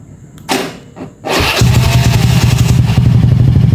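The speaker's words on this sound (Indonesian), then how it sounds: "Kita pencet starter, pencet starter, kita pencet remote nya on" A motorcycle fitted with a remote starter cranks briefly after a couple of faint clicks, then catches and settles into a steady, loud, close idle with a rhythmic chugging pulse.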